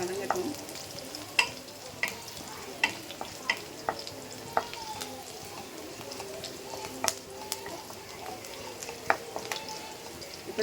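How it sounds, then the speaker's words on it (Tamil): Chopped onions sauté in a hot pan, a steady low sizzle broken by sharp metallic clicks and scrapes of a stirring spoon at irregular intervals, with faint bird calls in the background. "வெங்காயம் இன்னும் கொஞ்சம் பொன்னிறமாக வதங்கணும்"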